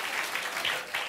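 A late-night talk show studio audience claps in a short, lively burst, with steady applause filling the room.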